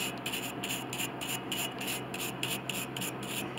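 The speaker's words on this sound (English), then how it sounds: "A little bit of brushing like this," Close, rhythmic brushing scrubs crud off a shiny metal part from an 1867 Chickering 33B piano, quick back-and-forth rasping strokes repeating steadily and quietly, with no talking.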